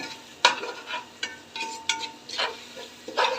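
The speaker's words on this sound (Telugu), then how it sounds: "అల్లం వెల్లుల్లి పచ్చివాసన పోయేంత వరకు వేపుకోవాలి. మనం బాగా కలుపుతూనే ఉండాలి" Ginger and garlic frying in a pan are stirred continuously, giving a hissing sizzle broken by about eight short utensil scrapes against the pan at an uneven pace, close up and with no speech.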